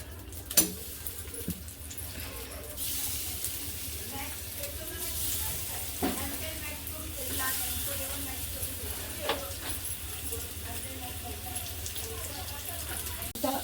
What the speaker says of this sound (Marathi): आता हे बोंबील जे राहिले ते आपण सगळे भाजून घेऊया